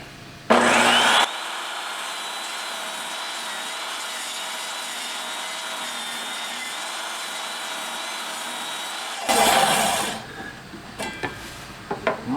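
A power saw cuts through a wooden board for an exterior door frame, starting with a loud burst, then running as a steady whining buzz for about eight seconds before spinning down, followed by faint clatter.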